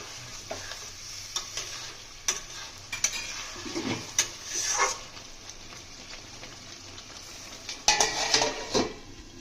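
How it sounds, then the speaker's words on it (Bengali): Potatoes fry in oil for a vetki fish curry while being stirred, giving a steady sizzle broken by frequent close scrapes and metallic knocks of the spatula against the pan. "আমরা আলু দিয়ে ভালো করে কষিয়ে নিয়েছি"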